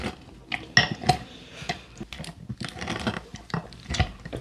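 Cucumber pounded in syrup with a pestle, producing a series of irregular knocks and clinks against the vessel, moderately loud and close with no talking.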